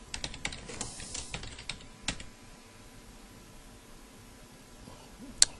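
Keys clatter on a computer keyboard as a name is typed, quick irregular bursts of clicks for the first couple of seconds, then sparse single taps over a quiet room hum, with one sharp click near the end.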